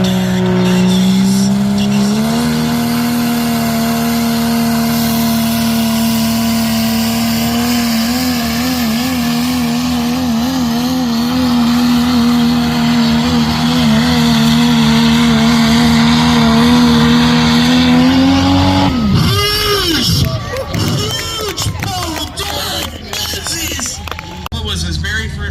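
A pulling truck's engine roars loud and steady at a tractor pull, the pitch climbing slowly before it cuts off abruptly, followed by scattered crowd and event noise.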